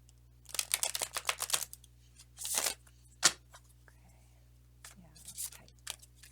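Quick bursts of papery riffling and flicking as tarot cards are shuffled close by, in several short clusters with pauses and a soft voice between.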